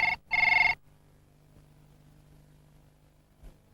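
A telephone ringing in a 1980s television advert, one short bright electronic ring burst that stops quickly and leaves a quiet low hum, with no speech.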